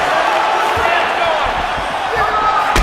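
UFC arena crowd roaring after a fight, a broad sustained cheer filling the hall with a sharp thud near the end, while a commentator talks over it.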